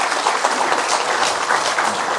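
Audience at a Buddhist book-launch ceremony applauding, a steady, loud wash of many hands clapping throughout with no voices on top.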